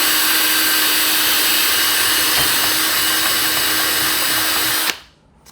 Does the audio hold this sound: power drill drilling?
yes